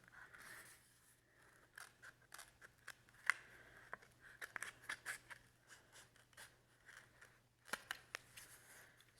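Scissors snip through material in a quiet indoor setting, giving a string of soft, irregular cuts and rustles, some close together, with a low steady hum underneath.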